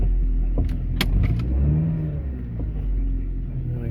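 Car being driven carefully with caged finches secured in the back, a low steady engine rumble from inside the cabin with a few light clicks and rattles.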